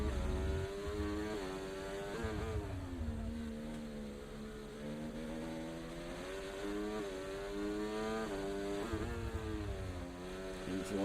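Racing cars lap the Hungary circuit in a racing video game, including a McLaren on an out lap, their engines whining steadily and rising and falling in pitch with gear changes and corners.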